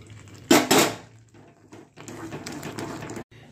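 Five-spice and dried chilli tempering poured into boiled dal makes a sudden loud hissing splutter, followed by a softer crackling sizzle with some pan clatter, close and without talk.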